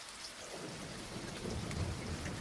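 Rain falls outside at night as a dense, steady hiss of drops on surfaces, continuous and fairly soft, growing slightly fuller toward the end, with no voices.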